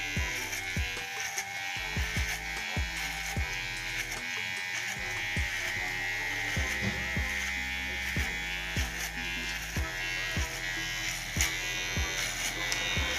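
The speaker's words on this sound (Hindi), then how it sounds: "उसके लिए आपको 1 नंबर क्लिपर लगाना है अपनी ट्रिमर में" Electric hair trimmer fitted with a number 1 clipper guard cutting hair: a continuous close buzz with regular sharp clicks and snips as the blade runs through the hair, with no talking.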